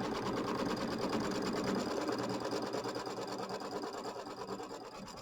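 An embroidery machine sews the placement line for a mini quilt block as one continuous, close, rhythmic stitching run. Its pace stays steady throughout and no one speaks.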